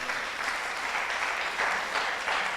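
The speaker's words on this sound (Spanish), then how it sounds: "Dale ese aplauso al Señor." A congregation at a church service applauds in praise, a continuous wash of many hands clapping at an even, moderate level with no voices rising above it.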